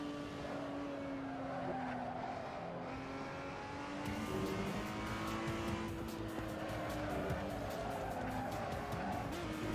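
Race car in a sim racing game braking hard into a corner, its engine droning and dropping in pitch while tires squeal and skid steadily, louder in the second half, with no one talking over it.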